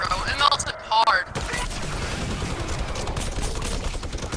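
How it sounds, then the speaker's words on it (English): Minigun fire in a video game comes as a sustained rapid barrage after a short burst of electronic game sounds, loud and continuous, with a voice talking over part of it. "Destroy the thing with the minigun."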